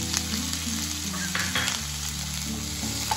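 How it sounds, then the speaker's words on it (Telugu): Sliced onions fry steadily in hot oil in a pan with curry leaves, giving a continuous close sizzle with a few soft stirring scrapes and no talking. "గోల్డెన్ బ్రౌన్ వచ్చే వరకు ఇవి వేయించుకొని పక్కన పెట్టుకోవాలి."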